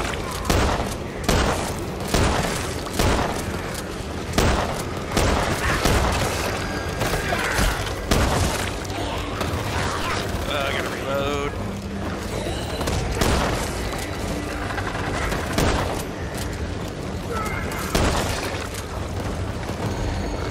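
Grenade blasts in the co-op shooter Back 4 Blood go off as repeated booming bursts, mixed with steady gunfire and chaotic combat noise that never lets up.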